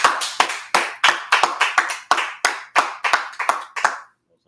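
Audience at a Friday night language class in Harlem, New York, clapping in a rhythmic, reverberant series of about a dozen bursts, loud and close, ending abruptly in silence.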